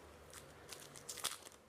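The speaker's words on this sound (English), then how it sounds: "And then the onion just splits apart." A knife cuts into an onion and splits it apart, giving a few quiet, crisp crunching cracks close by, with the sharpest snap near the end.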